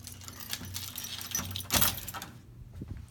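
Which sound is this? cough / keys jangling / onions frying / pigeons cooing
keys jangling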